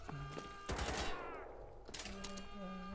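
A werewolf shooter video game sounds off with a loud burst of gunfire that drops into a ringing, sweeping tail, then a second volley, all over a droning background score.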